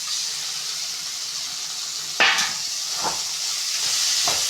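Chopped tomatoes sautéing in a pan for tomato chutney give a steady, close hiss of sizzling, broken by a few sharp clinks and stirring knocks.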